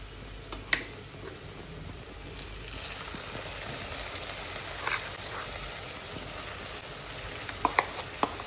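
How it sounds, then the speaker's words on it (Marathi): Ground coconut masala paste for Konkani-style Goan fish curry frying in a pan, a steady soft sizzle throughout with a few faint clicks and stirring scrapes, no talking. "आता मी याच्यामध्ये वाटण लगेच टाकून घेतोय"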